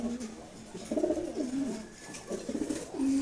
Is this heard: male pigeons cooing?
yes